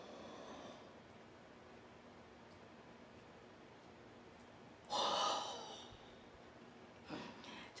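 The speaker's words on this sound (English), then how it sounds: "we're gonna take a big breath, we're gonna hold it for 5 seconds, and we're gonna let it out as fast as we possibly can" A deep breath held and then blown out as fast as possible during a breathing exercise for wind instruments: an inhale, several seconds of quiet, then a loud rushing exhale and a shorter puff after.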